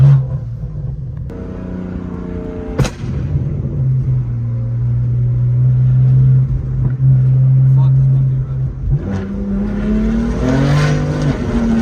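A single-turbo BMW 335i pulls hard through the gears, heard from inside the car as a loud, steady engine drone that rises in pitch, drops briefly at shifts, and climbs again, with a voice talking over it.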